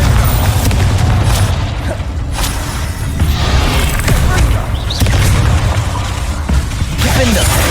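The Bombarda explosion spell in the Hogwarts Legacy video game, deep booming blasts over a steady low rumble, loud and close, with a voice speaking over them.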